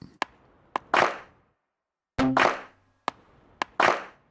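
Hip hop percussion layer with a clap sample: sharp, dry claps in a loose syncopated pattern, each preceded by a quick tap, repeating across a short bar with no voices.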